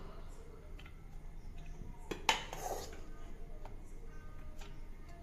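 A spoon stirs food with ghee and sugar in a small bowl, giving light metallic clinks and taps against the dish, with one sharper scrape-clatter in the middle and quiet surroundings.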